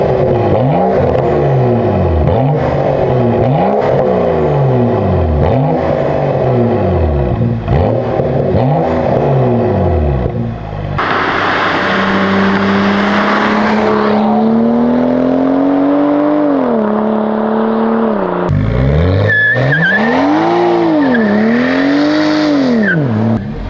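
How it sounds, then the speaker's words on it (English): A BMW E92 335i with a muffler delete revs repeatedly in loud, close blips, rising and falling, then holds longer sustained revs with sweeping pitch changes. "we're gonna need some warm rev clips real quick"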